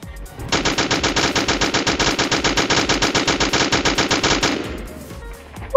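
Rapid automatic fire from an MG-42 machine gun in the Roblox game Area 51, one sustained burst of about four seconds with an even, fast rattle that cuts off abruptly.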